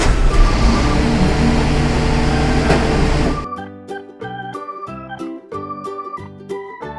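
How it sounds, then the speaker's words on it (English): A green toy garbage truck gives a loud, steady rumbling engine noise for about three seconds, then cuts abruptly to a bright, plucky music track. "Green garbage truck."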